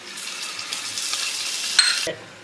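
Vegetables frying in a pan for veg Manchurian, a close steady sizzle with faint stirring clinks that cuts off abruptly near the end, no talking.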